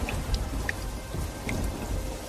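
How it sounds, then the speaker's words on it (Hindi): Steady rain falls on surfaces, hissing with a dense patter, while low rumbles of thunder roll underneath. It sounds close and continuous, with no voices. "ये बारिश का सिलसिला यूं ही कुछ दिन तक जारी रहता है।"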